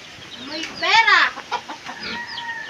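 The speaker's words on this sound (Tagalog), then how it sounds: "may manok pala din" Farmyard chickens clucking in a close burst of overlapping calls, loudest around the middle, with quieter clucks and rustling farm sounds before and after.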